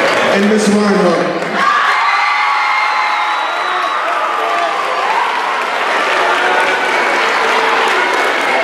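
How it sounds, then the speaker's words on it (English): A big round of applause from the audience at a university chair award ceremony, beginning right after a short spoken line, then steady crowd clapping with scattered cheers and whoops. "So if you could we give a big round of applause, please, for Dr. Legaspi and Ms. Reinhardt."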